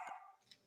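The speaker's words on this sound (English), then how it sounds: "sorry about my dogs barking." Domestic dogs barking indoors, a single short sharp bark at the start followed by a fainter, smaller yelp, fairly quiet and slightly distant with no talk over it.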